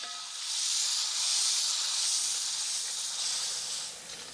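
Yogurt hits a hot pan with cumin, letting out a strong, steamy hiss that swells, holds for a few seconds and then eases off, with no talking.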